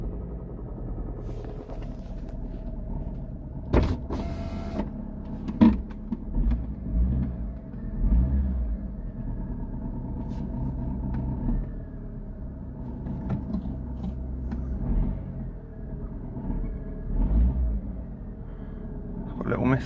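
A 2010 Ford Ka Titanium engine runs with a slight misfire, a steady low rumble with irregular bumps and a few louder surges over about twenty seconds.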